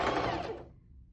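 A sewing machine whirs briefly and closely while reverse stitching a fabric scrunchie. The motor noise fades out after about half a second.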